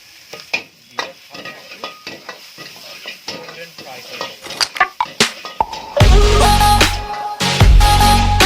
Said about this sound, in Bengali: আমাদের তেল গরম হয়ে গেছে, এবারে ওই রসুন কুচি, আদা কুচি আর পেঁয়াজ কুচিটা দিয়ে দেবো